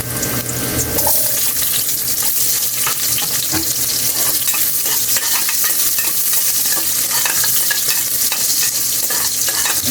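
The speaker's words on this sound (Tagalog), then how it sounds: "lagay na natin yung sibuyas natin" Onions sautéing with ginger and garlic in a hot pan, a loud continuous sizzle with stirring scrapes throughout, close and steady.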